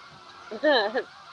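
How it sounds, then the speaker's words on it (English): Ducks give a short burst of loud, nasal honking calls, a couple of overlapping squawks over quiet background. "The ducks are going nuts."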